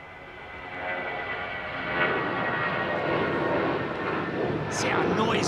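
A Turkish Airlines Airbus A330 with IAE engines departs runway 27R at London Heathrow, roaring steadily and growing louder, with a broad rumbling noise and a rising whine near the end.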